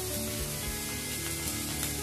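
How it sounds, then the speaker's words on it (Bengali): Onions sizzling steadily in hot oil in a pan while cooking Bengali fish kalia, a continuous close, loud frying hiss without pauses. "দেখো পেঁয়াজটা আমার ভাজা ভাজা হয়ে গেছে"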